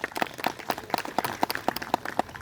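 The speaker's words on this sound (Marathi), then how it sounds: "जोरदार टाळ्या वाजवा" Applause from an audience at a retirement ceremony for a printing-press employee after 38 years of service, a steady patter of many hands clapping at moderate distance, sharp individual claps standing out through the short burst.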